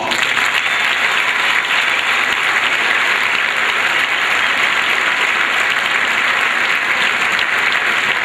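Loud, steady applause from a large crowd at a basketball celebration, sustained without a break from start to finish.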